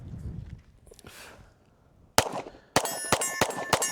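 A Smith & Wesson M&P Shield 45 pistol fitted with a red dot fires several sharp, loud shots in quick succession, each a hard crack with ringing tail, after a quieter stretch of handling sounds.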